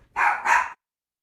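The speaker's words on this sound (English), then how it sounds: "the dog started barking like there was somebody at the door" A dog indoors gives two quick, fairly faint barks in close succession, then falls silent.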